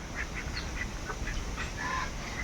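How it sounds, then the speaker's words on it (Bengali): Domestic ducks quacking in short repeated bursts as they come in, several calls overlapping at close range over a steady background hiss. "হাঁস ধরে আইতেছে দেখো কেমনি কেমনি প্যাক প্যাক করতে করতে আইতেছে"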